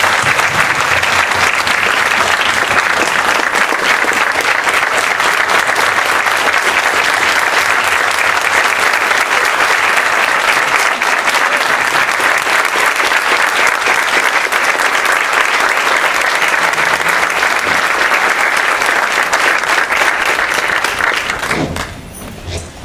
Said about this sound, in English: I think we deserve her a big round of applause